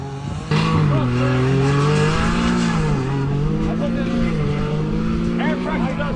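A Maverick R off-road vehicle stuck and driving to free itself, its engine droning steadily and loudly with rising and falling revs throughout, close by, while people shout and talk over it.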